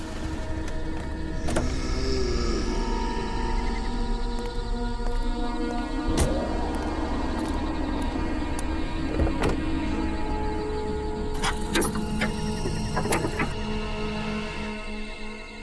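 A car suddenly in trouble gives off a series of sharp mechanical squeals, clicks and whirring tones over a steady drone, with repeated bursts clustered toward the end and no voices.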